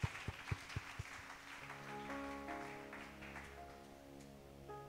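A church congregation claps for the Lord during a service, giving a short burst of applause that quickly fades under sustained organ or keyboard chords.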